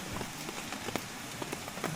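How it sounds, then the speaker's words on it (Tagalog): Light rain falls steadily at a mountain campsite in Siniloan, Laguna, a soft continuous patter of drops close by with scattered sharper ticks, no voices. "Hanggang ngayon umuulan pa rin. Hindi na masyado malakas ang ulan."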